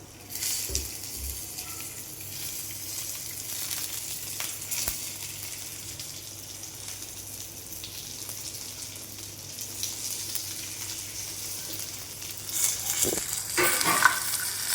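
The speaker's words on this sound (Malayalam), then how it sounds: "പൊട്ടും ഗൈസ് പെരിഞ്ചീരകം" Fennel seeds crackle and sizzle in hot oil while beef fries in a pan, a steady soft frying hiss with occasional pops and stirring scrapes, growing slightly louder near the end.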